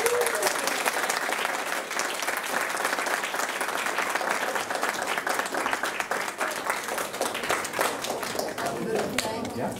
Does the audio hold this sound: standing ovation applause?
yes